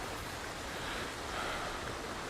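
Steady, dense rush of falling water from a waterfall in the video game Ghost of Tsushima, a continuous broadband roar heard up close with no talking over it.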